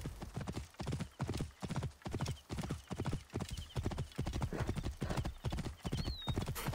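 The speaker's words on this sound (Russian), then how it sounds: "надо ехать на лошади" Horse hooves clopping in a steady galloping rhythm while riding in Assassin's Creed Origins, loud and close, with repeated regular strikes and no talking.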